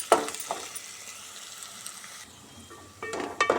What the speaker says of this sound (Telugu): అలా ఫ్రై చేసుకోవాలి.